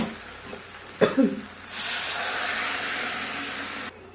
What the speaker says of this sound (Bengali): এবার দিয়ে দেবো এতে জল